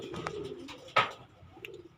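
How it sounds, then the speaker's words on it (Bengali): Native domestic pigeons cooing outside their coop on a small pigeon farm, with soft, repeated low coos up close and a brief sharper flutter or call partway through. "এখন কবুতরগুলো সবগুলো বাইরেই আছে ঘরের ভিতরে একটাও নাই"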